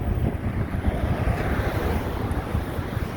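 Steady, loud wind buffets the microphone outdoors on a cold day in Saskatoon, Saskatchewan, a continuous roaring rush with no talking.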